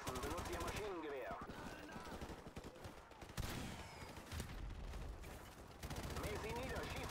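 Rapid bursts of machine gun fire in the shooter game Call of Duty Modern Warfare Remastered, loud and dense with clattering volleys, while voices talk in German over the firing.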